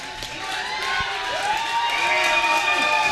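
A wrestling show crowd cheering and shouting in a busy hall, a dense roar of many voices with whistles and rising yells.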